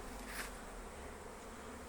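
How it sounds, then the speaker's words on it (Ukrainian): Wasps buzz around beehives in a steady outdoor drone, with one insect passing close to the microphone. "трошки оси лізуть, але ос в цьому году дуже багато"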